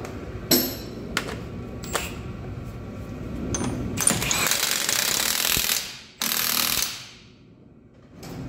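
An impact gun works on the front brake caliper bolts of a Ford Transit MK8 van, giving short bursts and rattling hammering runs, close and fairly loud in a workshop with no talking.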